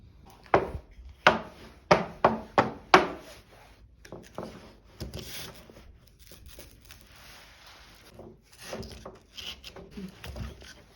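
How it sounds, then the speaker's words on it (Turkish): Wooden pieces are shaved from underneath, first with a quick series of sharp cutting knocks, then softer intermittent scraping and tapping, close by with no talking. "Bunları altından tıraşlayıp geliyorum."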